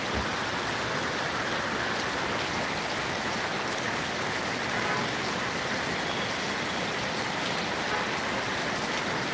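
Heavy rain pours steadily at a church feast in Kerala, a dense, unbroken hiss of falling water filling the scene evenly from start to finish, with no voices.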